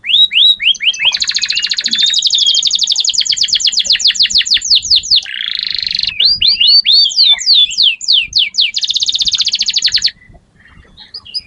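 An over-excited canary in a cage sings loud, near, continuous bursts of rapid chirps, trills and fast rising whistles for about ten seconds before falling quiet.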